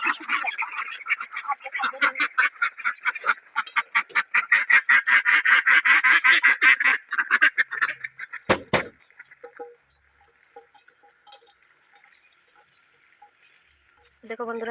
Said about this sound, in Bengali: আমি হাঁসগুলিকে খানা দিয়ে দিয়েছি এগুলি খাচ্ছে